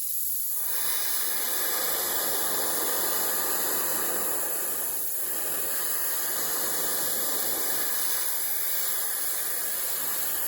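Steady, close spray-paint hiss as top coat is applied to a 1/200 scale model steam pinnace hull, a continuous airy rush with brief dips between passes, fairly loud and alone.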